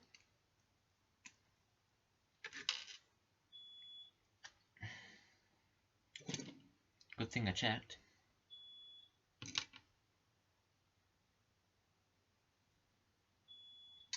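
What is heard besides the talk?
fire alarm panel beeping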